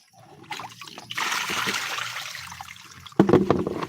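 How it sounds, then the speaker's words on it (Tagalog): Bath water drains from a basin with a gurgling, trickling rush that builds and then swells in a sudden splashy surge near the end. "Tapos i-drain lang natin ito ang tubig."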